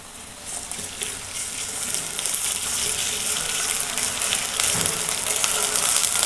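A ginger, garlic and cumin paste fries in oil for a garlic beef curry, a steady bright sizzle that swells louder and fuller over the few seconds, heard alone without talk.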